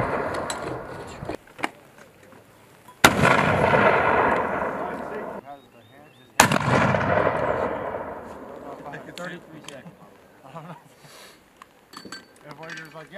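A mortar fires twice during heavy weapons training in Latvia, two sharp loud blasts each followed by a long rolling echo, with people talking nearby.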